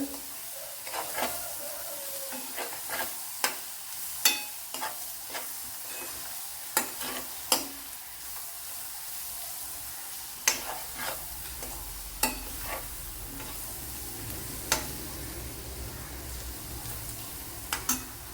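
Onions sautéing in a pan with salt, a steady low sizzle broken by repeated sharp scraping stirs of a spoon at irregular intervals, close and fairly quiet with no talking.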